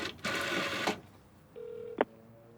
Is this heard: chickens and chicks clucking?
no